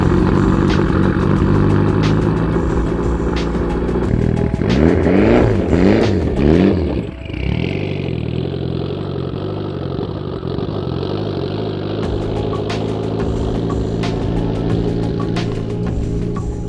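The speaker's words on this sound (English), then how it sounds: "Should we get a cold start for the boys?" A Mitsubishi Evo X engine fires up from cold and settles into a loud, steady rumbling idle, with a brief surge of revs early on and no talk over it.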